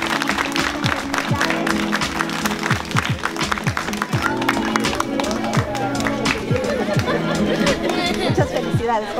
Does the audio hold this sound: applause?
yes